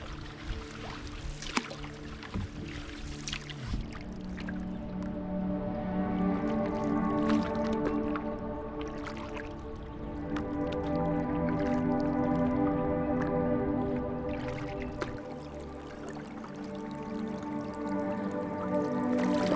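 Kayak paddles dipping and pulling through cold water in a partly iced-over Arctic tundra bay on a windy morning, producing repeated soft splashes, drips and squishy strokes up close, steady throughout with no talk.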